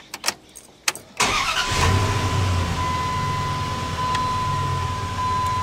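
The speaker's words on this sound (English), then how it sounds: "Now, let's start her up" A Dodge Dakota pickup truck's engine cranks and catches after a few light clicks, then settles into a steady, loud idle up close with no talk.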